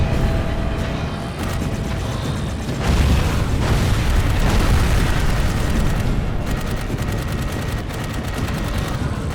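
Dense, continuous gunfire and booming explosions as enemies are blown apart in the Dark Void video game, a loud, unbroken barrage of shots and blasts with no talking.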